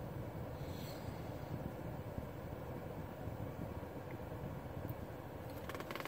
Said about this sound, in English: Yeah, sorry for the AC noise